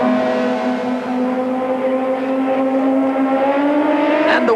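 Modified race cars accelerate away at a race start at Killarney, engines roaring loud and close with a strong droning tone that climbs slightly in pitch as they pull away.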